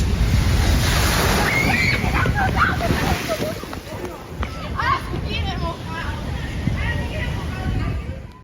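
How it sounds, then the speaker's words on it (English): Heavy ocean waves break over the sides of a fishing ship in rough weather, a loud continuous rushing wash and slosh with voices audible in the mix. "With the ship sitting lower in the water, the waves easily broke over the sides"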